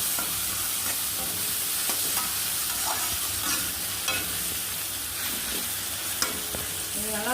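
Tomatoes fry and sizzle steadily in a pan, with frequent scraping stir strokes and clinks of a spoon against the metal, close and continuous, no voices.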